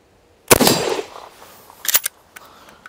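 A Ruger Mini 14 rifle fires at an outdoor shooting range: one loud, sharp shot rings out and decays, followed by a second crack about a second and a half later and a fainter third report.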